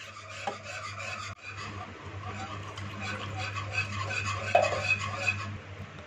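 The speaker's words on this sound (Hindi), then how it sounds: "साथ ही कॉर्नफ्लोर मिक्सचर को थोड़ा थोड़ा करके शामिल करते जाएंगे और हिलाते जाएंगे।" A spoon scrapes and rubs steadily through a cornflour mixture as it is stirred into a simmering donut filling in a pot, close and continuous over a low steady hum.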